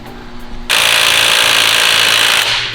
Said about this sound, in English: we have plenty of threads on the OEM crank bolt to use an impact gun on it